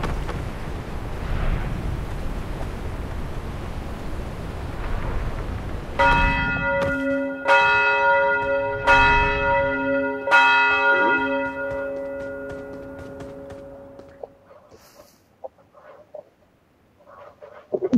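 A bell in the mobile battle royale game BGMI ringing in several resonant strikes, each leaving a long sustained tone, after a windy rumbling stretch. The bell fades into near silence with a few faint clicks.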